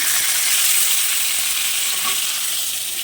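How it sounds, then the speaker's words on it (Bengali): Three pieces of fish fry in a pan with a loud, continuous sizzle and hiss that holds steady throughout, with no voices. "আমার মাছ তিন পিস বেঁচেছিল তিন পিস আমি ভাজতে দিয়ে দিলাম"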